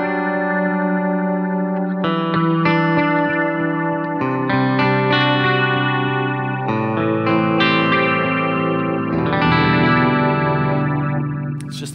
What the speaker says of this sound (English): Oh, I got a kind of Leslie thing happening there.